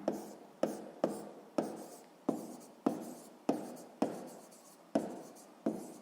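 A pen writes on paper during a sixth-grade maths exercise, giving close, quiet, rhythmic strokes, each with a sharp start that fades, repeating about every half second to second.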